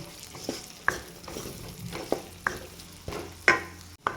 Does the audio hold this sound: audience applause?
no